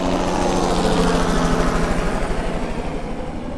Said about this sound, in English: I got a helicopter flying over.